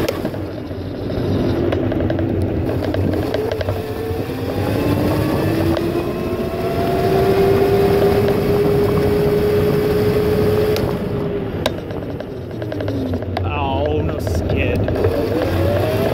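MX500 motorcycle revving hard during wheelies, with a loud, sustained engine drone that rises and falls in pitch and wind buffeting throughout.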